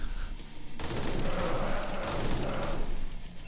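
SMG gunfire in the video game Arcade Paradise, a dense rapid burst of shots rattling loudly and continuously for several seconds, with no talking.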